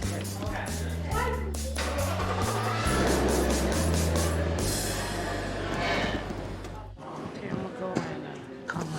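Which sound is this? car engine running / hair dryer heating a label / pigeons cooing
car engine running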